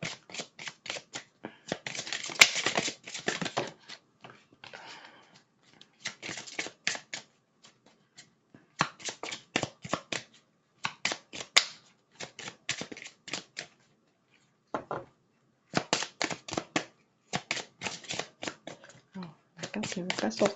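Tarot cards are shuffled by hand in repeated crisp bursts of riffling and flicking, separated by short pauses, close up and fairly quiet.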